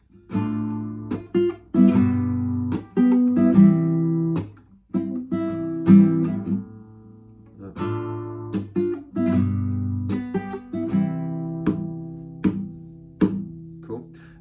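An acoustic guitar strums chords in a steady pattern, each down strum followed by a sharp percussive chuck, played up close with short pauses between phrases.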